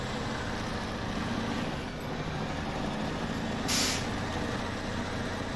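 A heavy off-road truck in SnowRunner rolls along asphalt with a steady, loud engine drone and tire rumble, broken by one short hiss of an air brake near the end.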